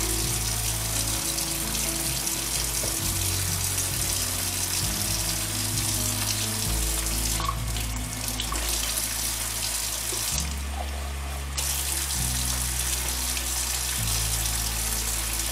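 Tap water gushing into a sink to wet a Surge milker, a steady loud hissing stream with brief shifts as the flow is interrupted and the parts are moved under it, no talking.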